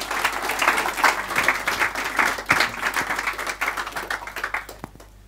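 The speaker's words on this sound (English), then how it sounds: "Can we give her a round of applause?" An audience applauds at a therapy talk. Lively clapping from a modest crowd rises in dense bursts and then thins out to a few last claps before stopping.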